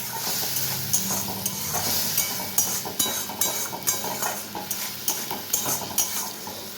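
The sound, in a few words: spice-rinsing water poured into a hot frying pan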